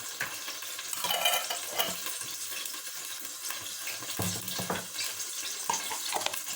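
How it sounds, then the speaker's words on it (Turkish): Pepper paste and tomato paste fry in a pan with a faint, soft sizzle and intermittent scraping of a spoon as it is stirred, heard quietly and close without speech. "Salçayı şöyle kavuruyorum."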